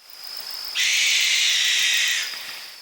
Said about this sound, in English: Barn owls will make your hair stand on end.